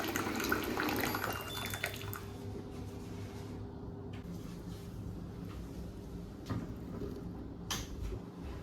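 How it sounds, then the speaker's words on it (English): Hot water poured from a kettle into a bowl, a close rushing splash for about two seconds, followed by quieter sloshing, clinks and handling noises. "I will pour some hot water into a bowl and submerge the sensor cap in it"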